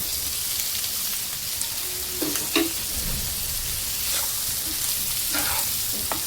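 Potatoes go into hot oil with coriander in a pan for a Vidarbha-style yellow potato dish, giving a steady loud sizzle and crackle with a few scraping clinks of a spoon partway through.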